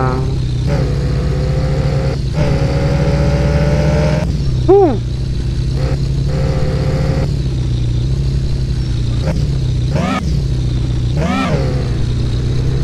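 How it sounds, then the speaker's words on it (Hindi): Used car in a Hindi car dealership game, its engine idling with a low rumble, then blipped into several sharp revs that rise and fall, loud and close. "चलिए इंजन स्टार्ट करो भाई"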